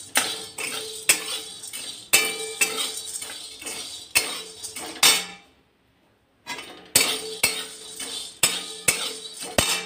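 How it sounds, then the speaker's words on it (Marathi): Whole spices, including mace, cinnamon, cardamom and cloves, are dry-roasted for homemade masala, a metal spatula clinking and scraping against the pan in quick repeated strokes, with a brief pause midway before the stirring resumes. "सगळे मसाले आता हे भाजून घेते"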